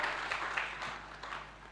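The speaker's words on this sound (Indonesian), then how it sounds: "Beri tepuk tangan yang dahsyat bagi Allah kita." A church congregation at a Sunday worship service claps together, a soft, steady wash of applause heard from a distance at low volume, with no talking over it.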